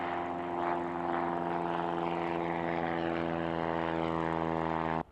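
A small propeller airplane climbs after takeoff, its engine a loud, steady drone with constant pitch that holds throughout before cutting off abruptly at the end.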